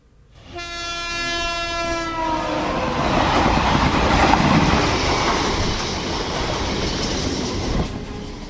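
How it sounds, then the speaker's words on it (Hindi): A fast express train rushes past a closed railway level crossing, opening with a long horn blast that gives way to a loud, close roar and rattle of wheels over the rails, fading slightly at the end. "तेज रफ्तार एक्सप्रेस ट्रेन पटरियों पर धड़धड़ाती हुई दौड़ रही है।"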